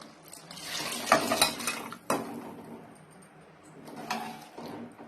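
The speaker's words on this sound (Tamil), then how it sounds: "நல்லா கலந்து விட்டுக்கோங்க." A spoon scrapes and clinks against a pot while cooked dal is stirred into simmering vegetable sambar, giving a few bursts of metallic scraping with soft bubbling between, close and moderately loud.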